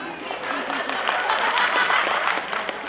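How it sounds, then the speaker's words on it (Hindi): An audience at a dance academy's annual function claps in a dense, sustained burst of applause, with voices in the crowd mixed in. "तालियों बजाओ प्लीज।"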